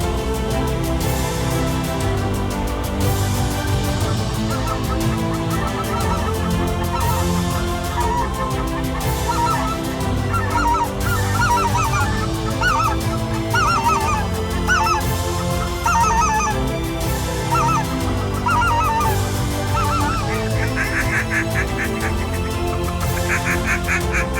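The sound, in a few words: geese honking during waterfowl migration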